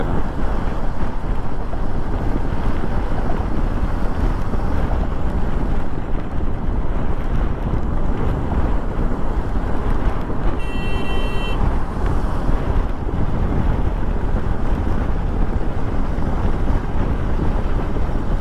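Strong wind blows continuously at a beach, a loud, dense roar buffeting the microphone throughout with no letup and no speech.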